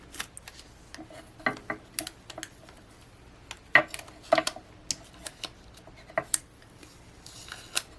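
Scissors snip craft vinyl for a decoration, a string of short crisp cuts and small clicks, close and fairly quiet with gaps between them.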